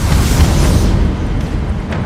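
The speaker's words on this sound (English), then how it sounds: "Missiles away" Missiles launch from a warship in the Dreadnought video game, a loud, heavy booming roar with deep rumble that sustains briefly and then eases into a fading rush.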